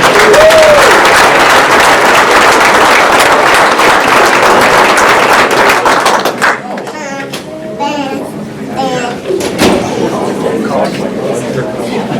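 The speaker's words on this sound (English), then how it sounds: "One more time, can we give a round of applause for the alumni?" An audience at a sports hall of fame induction ceremony applauds loudly for the alumni, with sustained dense clapping that thins toward the end as voices and scattered cheers break through.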